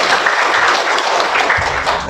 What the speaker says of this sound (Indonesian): Kasih aplaus teman-teman.